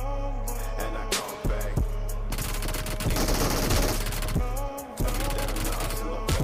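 Machine-gun fire in a BGMI battle, with rapid bursts rattling in the middle of the clip over steady game music and sound effects, without speech.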